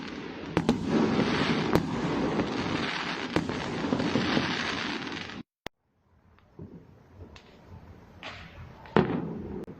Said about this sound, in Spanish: petardos al lado de tu casa.